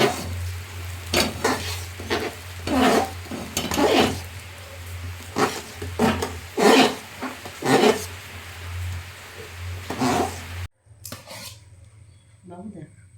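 Potatoes stirred and frying in a pan with spices, repeated scraping and clinking strokes over a steady sizzle, close and fairly loud, ending abruptly into near quiet.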